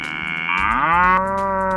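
Cattle at a dairy let out a long, drawn, close moo that rises and holds, loud and clear with no voices.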